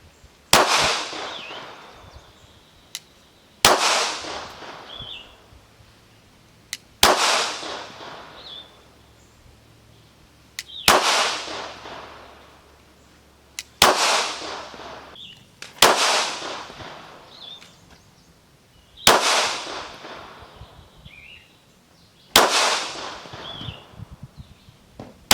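Ruger RXM pistol fired in single shots: eight sharp, loud cracks spaced a few seconds apart, each with a short ringing decay, and quiet pauses in between.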